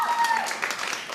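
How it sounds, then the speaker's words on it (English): Short burst of audience applause at a talk-show stage taping, a steady crackle of many hands throughout, with a voice speaking over it. "I mean, a little bit of round of applause."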